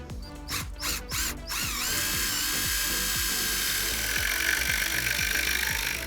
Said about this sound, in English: Use our 6-inch timber locks, screw to the centre, as so.